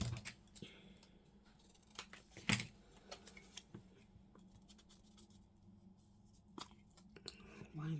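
Scissors snip through paper for a junk journal, a few quiet, sharp cuts spread across a near-silent room, with one louder snap midway and faint handling rustles around them.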